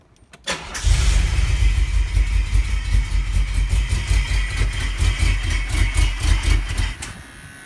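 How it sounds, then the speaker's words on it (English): A DeLorean car engine cranks and fires, then settles into a loud, steady idle with a throbbing low rumble that carries on alone for several seconds after restoration work on its intake, water pump and fuel lines. "here we go, starting the car"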